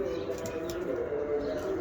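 Pachaliye pigeons coo softly in low, rolling murmurs, the sound continuous and moderately close, with a voice speaking over it.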